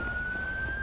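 An ambulance siren in the video game GTA 5 holds a steady high wail, moderately loud, over a low rumble of traffic and engine noise.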